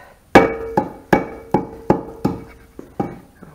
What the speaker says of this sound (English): We're going to beat on it a little bit with a rubber mallet.